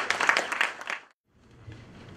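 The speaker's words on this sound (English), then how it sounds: "a big round of applause." Audience at an India–Midwest economic partnership seminar in Chicago applauds a speaker, a burst of clapping that fades out after about a second, followed by faint room noise and a low rumble.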